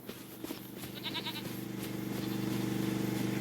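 Goats bleat in the farm video game Farming Simulator 25, on a Memphis, New York map near a shed, a few wavering animal cries rising over a steady low background hum.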